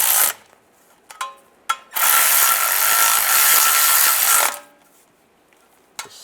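A ratchet or power driver tightens bolts on a 2007-2013 Chevy Silverado rear main seal cover, a few quick clicks followed by a loud continuous whirring burst of about three seconds, then a final click, close up.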